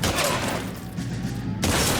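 Shotgun blasts ring out during a gunfight in the video game LA Noire. The reports come loud and near in a dense burst that thins briefly before a final heavy boom.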